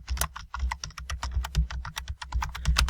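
Fingers tap quickly and steadily on a computer keyboard while entering data into a spreadsheet, a close, crisp stream of individual key clicks with no talk.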